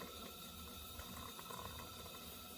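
Hot water pours for a pour-over coffee in a continuous hissing, splashing stream that stays even and close.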